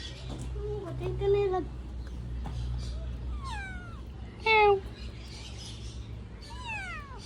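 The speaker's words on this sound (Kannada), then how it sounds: "ಯಾವ ಕ್ಯಾಟ್ ಇದು?" A cat meows several times at a theme park, short rising and falling cries spaced apart, over a low steady hum with faint background voices.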